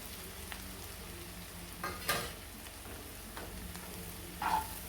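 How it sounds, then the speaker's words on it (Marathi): Crumbs of stale bhakri flatbread, ground in a mixer, sizzle quietly in a pan while a spoon scrapes and stirs, giving a few soft scraping strokes over a faint steady hiss. "सर्व एकसारखं हलवून घेऊया"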